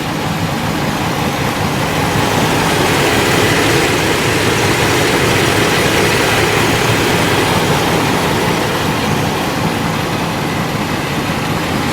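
A muscle car engine, with a reported misfire under load and 198,000 miles, runs loud and steady at close range, a constant dense rumble with no talk.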